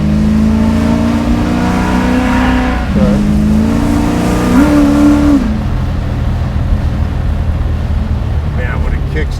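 A 650-horsepower big-block Plymouth Roadrunner muscle car roars as it accelerates and kicks down a gear, its loud engine note rising, dropping at the shift, then climbing again before fading, with people talking inside the car.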